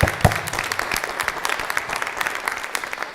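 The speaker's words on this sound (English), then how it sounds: "Let's give him a round of applause." A room full of people breaks into applause, steady dense clapping lasting the whole stretch with a sharper burst near the start.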